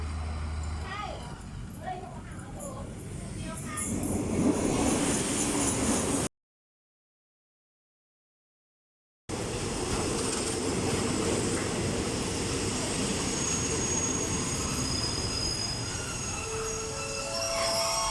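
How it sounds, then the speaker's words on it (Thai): A Thonburi–Prachuap Khiri Khan train pulls into Ratchaburi station in Thailand with a loud, steady rumble of rolling wagons and squealing wheels, a brief silent gap, then continued heavy rail noise. "รถไฟกำลังจะเทียบเข้าชันชลานะคะ"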